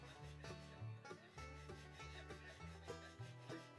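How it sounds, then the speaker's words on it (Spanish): Wet sandpaper rubs back and forth along the freshly cut edge of a glass bottle, giving a close, rhythmic run of short gritty strokes with no talking. "Lijaremos con paciencia tanto el borde interior como el exterior"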